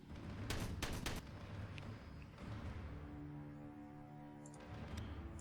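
Heavy bolter gunfire from the Warhammer 40k Regicide video game, with dense bursts of rapid shots up front followed by rumbling explosions and fading echoes, loud and without talk.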